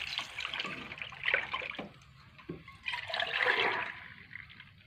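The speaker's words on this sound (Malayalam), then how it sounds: "ഇനി നമ്മൾ ഓറ ഒഴിക്കാൻ പോവാണ് കേട്ടോ" Rubber latex is poured into a dish through a strainer during rubber sheet making, giving close, uneven bursts of splashing and trickling liquid separated by short pauses.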